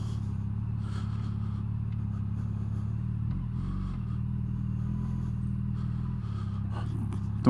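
Yamaha FJR 1300 motorcycle engine idling and rumbling steadily up close during a test ride, a low continuous drone with a slight dip in pitch midway and faint clatter over it.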